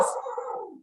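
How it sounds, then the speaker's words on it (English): A pet dog howls and barks in a single short, fairly loud burst that trails off within a second, heard alone in an indoor setting. "I'm so sorry about the dog."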